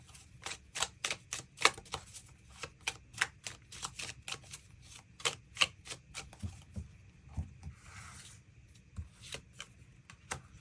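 Tarot cards being shuffled by hand in a quiet room, a long run of crisp riffling clicks and slaps in uneven bursts, close and fairly soft with no talking.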